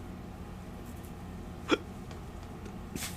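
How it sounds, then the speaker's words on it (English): A single sharp, close hiccup from a man, brief and sudden over low room noise, followed by a faint breathy sound. "That was a hiccup."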